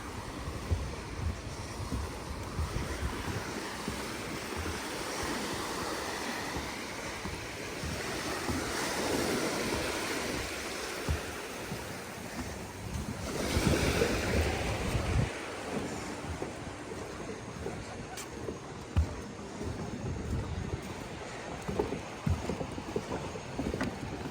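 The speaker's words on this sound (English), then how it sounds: "Like small waves like that" Small, calm sea waves wash continuously onto a beach on Koh Samet, Thailand, a soft, even surf with light wind noise and no talking.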